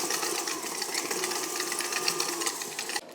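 An electric stand mixer with a whisk attachment creams butter and sugar, a steady close motor whir with a rapid rhythmic beat that stops abruptly near the end.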